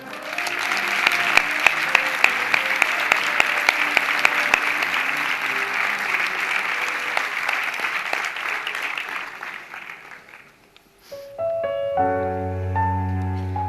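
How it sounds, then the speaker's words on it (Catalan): Strong applause from a crowd for a falla's standard at a presentation event, dense sustained clapping that fades out near the end, followed by music starting up. "us demanem que li dediqueu un fort i merescut aplaudiment al nostre estandard"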